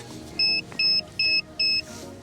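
Four short, evenly spaced electronic beeps from a remote start module being installed on a Kia Stinger, loud and close with no talking.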